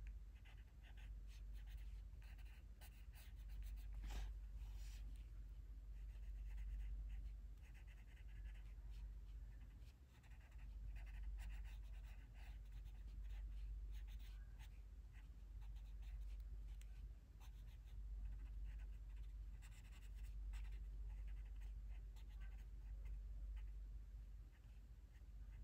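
Coloured pencils stroke across paper as they lay down and blend colour, producing a quiet, continuous scratchy rubbing over a low background hum with no talking.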